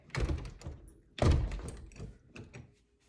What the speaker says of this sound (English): All right, you guys come in or I'm shutting the door.